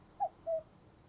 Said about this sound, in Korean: 밤이 되자 뻐꾸기 시계가 6번 울었습니다.